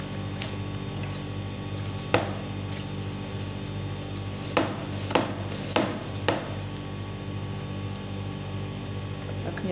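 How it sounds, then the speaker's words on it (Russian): A knife chopping cabbage for home fermenting: a handful of crisp, separate cuts spaced a second or so apart over a quiet kitchen background, close and clear with no speech. "И вот таким ножом начинаю сюда крошить."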